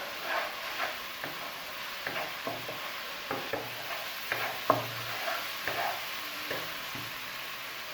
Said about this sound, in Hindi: मिक्स करेंगे और इसको 30 सेकंड्स तक फ्राई करेंगे